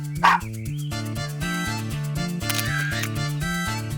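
A single quick camera shutter click sounds as a puppy has its photo taken in an animated children's story, heard once near the start over steady, bouncy background music.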